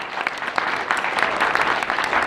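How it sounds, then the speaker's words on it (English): Audience at a nonprofit group's meeting applauding, a steady dense wash of many hands clapping that holds loud and continuous throughout, with no talk over it. "So I want to offer a round of applause to"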